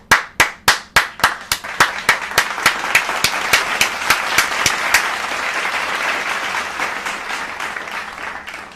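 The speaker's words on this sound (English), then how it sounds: "Clap it up for Mike." Loud, sharp hand claps open with an even rhythm, then thicken into steady, dense group applause that carries on to the end, with no one talking over it.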